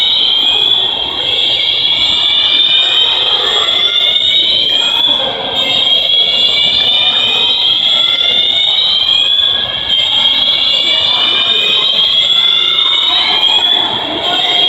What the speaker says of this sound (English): Fire alarms sound like a siren.